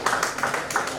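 Women in an audience at a Bamileke community festival in Columbus, Ohio clap briefly in a burst of close, uneven hand claps under a lively hall ambience.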